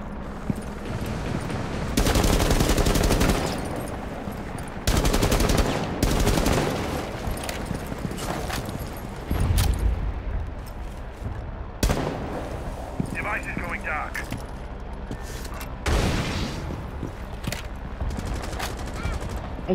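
Rapid gunfire from a shooter video game crackles in repeated bursts and short volleys, loud and close, with pauses between salvos and a voice talking over parts of it.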